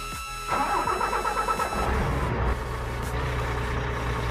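A truck engine in Grand Truck Simulator 2 cranks briefly, catches and starts, then settles into a steady low rumbling idle after a short rise in revs, with no voices over it.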